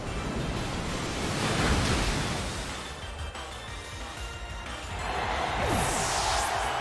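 The Surf move sound effect plays in a Pokémon ranked battle, a loud, sustained rush of wave-like noise that swells, eases and swells again without any talk.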